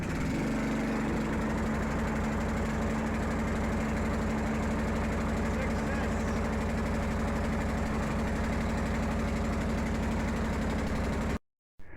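A tractor lawn mower engine idles steadily in a shed after a cold start with the choke up, a loud continuous low rumble with a faint knocking pulse that runs unbroken until it cuts off abruptly near the end.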